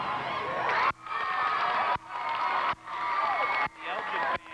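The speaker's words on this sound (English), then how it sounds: "The Elgin fans beginning to make a little more noise than the hometown crowd here at Larkin High School." Elgin supporters raise a steady roar in the Larkin High School basketball gym during a 1993 game, loud sustained crowd noise broken by brief cuts, with voices mixed in.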